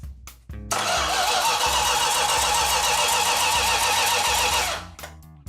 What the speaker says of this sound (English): switch on and starter